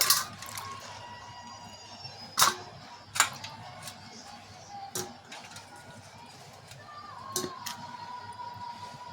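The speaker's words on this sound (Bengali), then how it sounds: "এগুলোকে পরিষ্কার করে আমি ধুয়ে নিব।" Cut spiny gourd (kakrol) pieces washed in water, with splashes and sharp clinks against a bowl spaced through the clip over faint background noise, close by.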